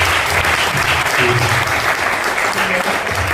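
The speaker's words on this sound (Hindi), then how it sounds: "एक बार जोरदार तालियां हमारे क्लब के मेंबर्स के लिए" Loud, steady applause from an audience honouring club members at a shayari gathering fills the whole short stretch, with a voice faintly underneath.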